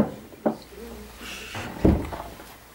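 Wardrobe doors in a hotel room are opened, giving two short wooden knocks or clunks about a second apart, the second louder, against a quiet room background.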